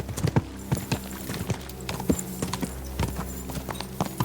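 Steady clip-clop of horse hooves in the video game Kingdom Come: Deliverance 2, a regular trotting rhythm of sharp knocks over a low constant hum, close and fairly quiet.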